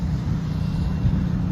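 Honda Civic Type R sports car exhaust, a loud steady low rumble close by; no distinct separate pops or bangs stand out in this short stretch.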